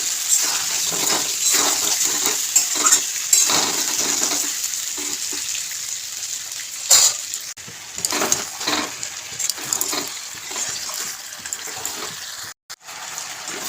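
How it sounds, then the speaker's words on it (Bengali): Potatoes fry in hot oil until reddish in a home kitchen, a steady close hiss and crackle sizzling throughout, with a few clattering stirs and bumps along the way. "আলুগুলো লাল করে ভেজে নিই"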